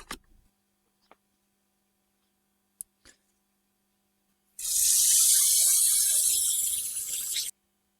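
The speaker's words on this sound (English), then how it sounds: "I'm going to very gently soak that in some water, take the soil off" Water runs for a few seconds while a plant's root ball is soaked to wash the soil away. A couple of faint clicks come first, then a steady splashing flow that stops abruptly.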